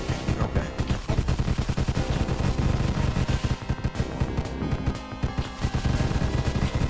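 Rapid volleys of gunfire in the video game Deathstate, dense overlapping shots rattling continuously at close range with little letup.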